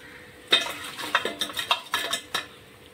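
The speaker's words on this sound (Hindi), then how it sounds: "चाइनीज़ पकौड़ा अच्छे से फ्राई हो गए हैं, अब हम इन्हें बाहर निकाल लेंगे।" Fried Chinese pakoras are lifted from a kadhai with a metal utensil, producing a quick series of about eight close, bright clinks and scrapes over a faint background hiss.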